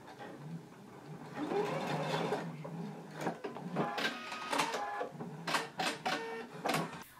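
A sewing machine bastes across the lower edge of a shirt from Simplicity pattern 8889, a soft close mechanical whirr running in short bursts with clicking stops between them.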